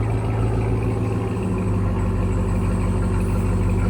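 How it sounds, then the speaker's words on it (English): A 2021 RAM TRX pickup with a Flowmaster Outlaw exhaust idles steadily, a close, continuous low rumble with no talking. "Really nice idle. Here's idle on it."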